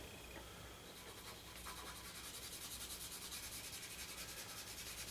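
Pastel pencil being rubbed and smoothed across paper while drawing a church scene, a soft steady scratchy rubbing with a faint rhythmic back-and-forth texture, close and quiet, no voices.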